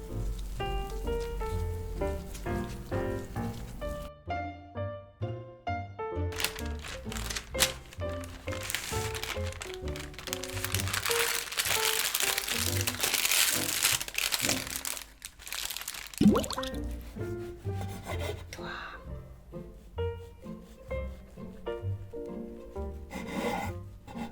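Parchment paper crinkles and rustles steadily as a chocolate roll cake is wrapped, with soft music playing underneath throughout.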